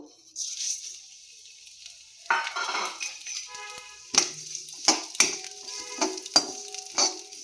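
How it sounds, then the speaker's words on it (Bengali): Flattened rice (chira) fries gently in melted ghee over very low gas for a sweet rice pudding. A soft sizzle is broken by the scraping of a stirring spoon and several sharp metallic clinks against the pan, with no voices. "চিড়েটাকে একটুখানি হালকা ভেজে নেব।"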